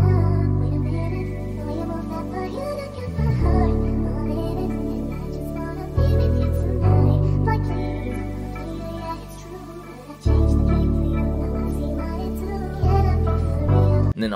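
A sampled music loop plays back in FL Studio, a steady sustained harmonic pattern with deep bass that restarts in clear sections roughly every three to four seconds, loud and alone with no voices.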